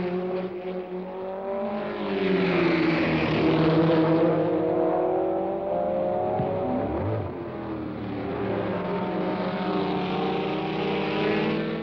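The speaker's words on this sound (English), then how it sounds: "Reaching top speeds of 170 miles per hour, Lader and Lazier thrashed into the final second" Race cars roaring past at speed during the 1971 American Road Racing Championship in Georgia, a loud sustained engine drone that rises and falls in pitch as they pass, with no voices.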